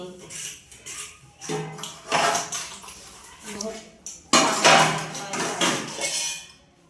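Metal pots and dishes clatter and clank in bursts while being washed, loud and close, with voices talking over the clinking throughout.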